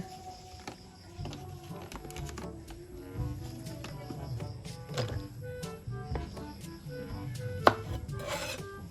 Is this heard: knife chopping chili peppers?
yes